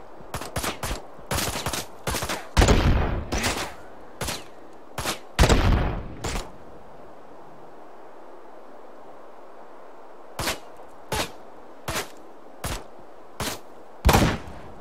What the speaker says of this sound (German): Von wo schießt der Lappen?